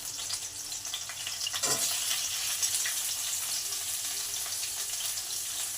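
Pointed gourd pieces hit hot oil with fried chilli, bay leaf and tempering spices, setting off a constant close sizzle with a brief burst of crackle as they go in.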